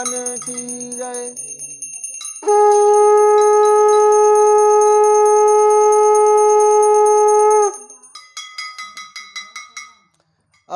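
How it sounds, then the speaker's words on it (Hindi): A bell rung during a Satyanarayan puja: a sustained, bright metallic tone holds steady for several seconds, followed by a series of quick, lighter repeated strikes that fade out. Brief talk comes before the ringing. "चलो घंटी बजाओ"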